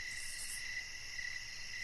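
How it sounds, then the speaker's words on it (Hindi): Crickets chirp at night in a steady high shrill trill, continuous and fairly faint, with no other sound or voices. "केवल झींगुरों की आवाज उस सन्नाटे को तोड़ रही थी।"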